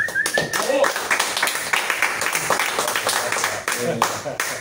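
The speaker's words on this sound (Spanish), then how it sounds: "os pido un aplauso aquí para Pep Domingo, para Nadar" Scattered audience clapping at a comic book presentation in Barcelona, with distinct individual claps that thin out while people talk over them.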